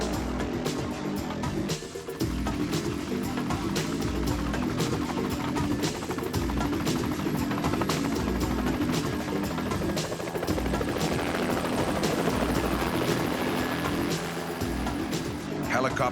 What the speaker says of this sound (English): Helicopters are amazingly effective firefighting tools, as they can drop buckets of water on flames with surgical precision.